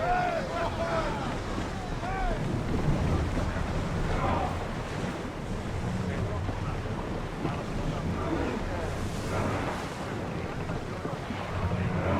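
Sailing ship at sea in the video game Assassin's Creed Odyssey, with steady wind and surging waves against the hull throughout, and voices speaking over the constant rush of water.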